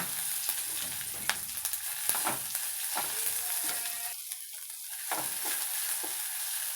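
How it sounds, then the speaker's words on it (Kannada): Sliced onions fry in oil for dal tadka, a bright crackling sizzle punctuated by spatula scrapes and stirring knocks that briefly quiets and resumes, close and unaccompanied by speech. "ಈರುಳ್ಳಿ ಸ್ವಲ್ಪ ಗೋಲ್ಡನ್ ಬ್ರೌನ್ ಕಲರ್ ಬರೋ ತನಕ ಫ್ರೈ ಮಾಡಬೇಕು"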